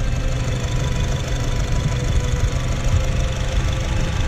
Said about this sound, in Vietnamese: Máy nổ không một tiếng động lạ luôn nha.